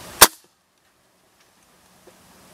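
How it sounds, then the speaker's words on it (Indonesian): A single sharp air rifle shot, a high-powered 1000 FPS break-barrel type, cracks loud and close, then a quiet gap follows with a faint distant knock near the end. "Oke, tembakan ketiga."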